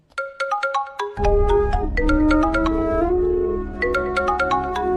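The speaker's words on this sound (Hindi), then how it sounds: "फोन तो उठा ले।" A phone ringtone plays a bright repeating electronic melody, loud and steady over a low rumbling background.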